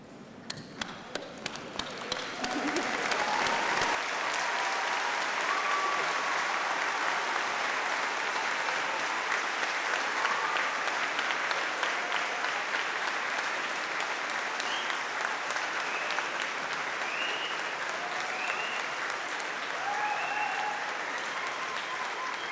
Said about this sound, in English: join me in giving them a well-deserved round of applause.